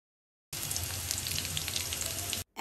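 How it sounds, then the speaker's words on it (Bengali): Chopped garlic and two or three dried chillies fry in hot oil, giving a close, even crackling sizzle that starts abruptly and holds for about two seconds before stopping. "রসুন কুচিটা এখন আমি লালচে করে একটু ভেজে নিব।"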